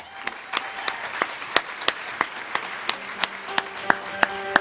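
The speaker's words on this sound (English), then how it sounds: "a round of applause" Audience applause at a talk event, heard as sparse, fairly faint clapping with a few distinct claps standing out at a steady pace.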